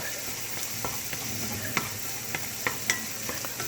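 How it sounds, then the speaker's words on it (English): Garlic and onion frying in oil for fried rice, a steady sizzle with a few sharp stirring clicks and scrapes scattered through, close and moderately loud. "I like to put garlic and the onion in here because it gives the oil flavor."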